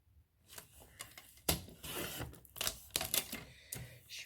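Paper being cut with scissors for a tea advent calendar box, several short crisp snips and rustles at close range, spaced irregularly and heard alone without talk.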